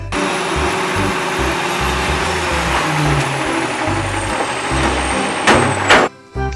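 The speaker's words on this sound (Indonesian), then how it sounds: "yang ini mobil truk mengangkut sampah" A toy garbage truck plays its sound effect: a steady mechanical engine-like whir with a high whine running throughout, ending in a few louder clunks near the end, close and loud with no talk.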